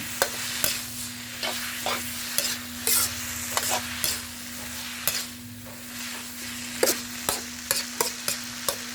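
Rice noodles (khanom jeen) being stir-fried in a pan, with a steady low sizzle broken by repeated sharp scraping strokes of a utensil against the pan, close and fairly loud, irregularly spaced over the whole stretch with no voices.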